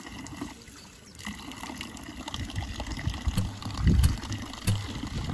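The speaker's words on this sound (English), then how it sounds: "You could take the shower here." An outdoor beach shower runs with a steady hiss of falling water that grows louder and splashier partway through, over ambient outdoor noise.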